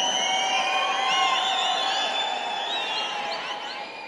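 A crowd cheers, whoops and whistles at a film event, a loud continuous wash of voices with shrill whistles over it, fading slightly toward the end.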